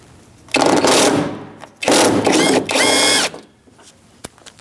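A ratchet with a 10mm socket loosens window regulator nuts inside a 2016-2019 Chevrolet door, giving three loud, close bursts of rapid clicking-whirring with short pauses between them.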